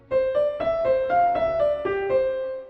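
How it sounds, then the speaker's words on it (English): A short melody of about eight plucked or keyed notes plays alone, evenly paced, each note clear and slightly ringing, ending with a fade. "If I take this melody here and play it for you"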